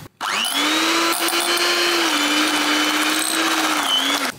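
An electric mixer beating 300 grams of cream cheese for a butterfly pea cheesecake, one loud, steady whine that runs without a break for about four seconds, close up and with no voices.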